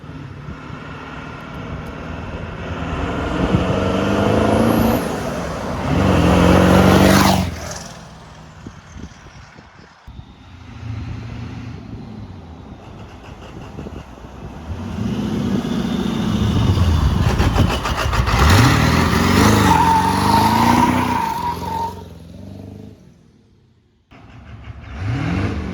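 A lowered two-wheel-drive 7.3 Powerstroke diesel truck passes by more than once, its engine note swelling as it approaches and fading as it moves away. There are no voices.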